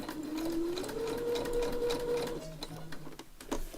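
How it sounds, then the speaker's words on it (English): A sewing machine stitches steadily at close range with a continuous whirring hum, stopping near the end, during a session turning an Edith Holden book into junk-journal ephemera. "Are you sewing again? I'm sewing again"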